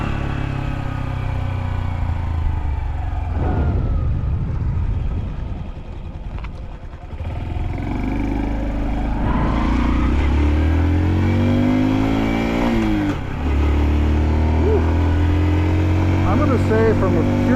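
Honda Dax mini motorcycle ridden uphill with rough gear shifting, a continuous near engine drone that dips, then revs up in rising sweeps with shift breaks, while a rider talks over it.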